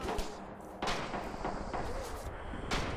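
Several sharp gunshots ring out from Red Orchestra 2 multiplayer on the Bridges of Druzhina map, irregular cracks over a dense battlefield wash, some close and others farther off, with a voice talking over the din.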